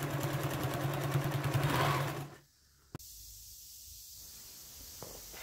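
A sewing machine stitches quilting on a patchwork quilt, running steadily and fairly close for about two seconds, then stopping, followed by near silence with a single faint click.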